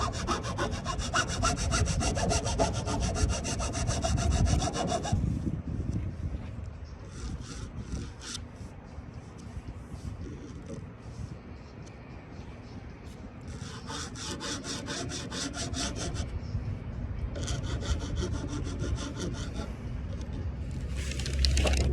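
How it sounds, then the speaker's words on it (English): A rasp's less aggressive side bevels the wooden edge of a DIY splitboard kit at about 45 degrees, producing close, gritty scraping strokes in several sustained bursts separated by quieter pauses. "Let's bevel that edge. I'm going to use the less aggressive side of the rasp."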